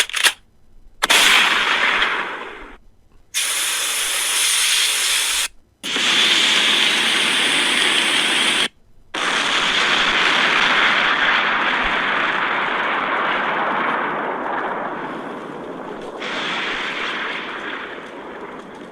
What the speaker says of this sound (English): Sure enough, it resulted in a massive explosion.